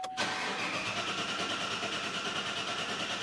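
A mild hybrid car engine cranking steadily during a battery voltage drop test, a close, continuous whirring crank that starts abruptly and holds an even rhythm throughout.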